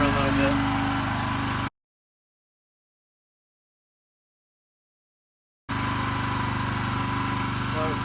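Champion open frame dual fuel 3500 W inverter generator running just after starting on the first pull, a steady engine drone for almost two seconds that cuts out, then returns steady after a silent gap.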